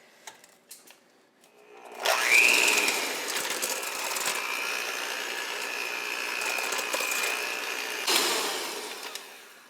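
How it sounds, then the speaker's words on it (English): Handheld electric mixer creaming butter and sugar for pumpkin spiced madeleines, starting after two quiet seconds with a steady, loud mechanical whir that holds until the end of the clip. "I'm going to use my handheld mixer for this because I really want to make sure that the butter and sugar really cream up."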